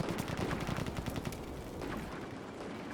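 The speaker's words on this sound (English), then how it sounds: "Yeah, so we are shooting the main gun, unfortunately, for the church." Heavy gunfire from a tank's main gun firing high-explosive shells in the Combat Mission WWII game, a dense, rapid burst of loud blasts up close that thins into a rumbling tail.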